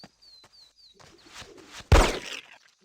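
Pigeons coo softly in the Hitman 2: Silent Assassin training mission, with a few faint high chirps early on, then a loud close burst near the end.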